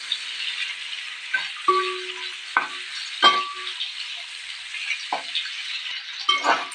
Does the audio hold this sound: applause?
no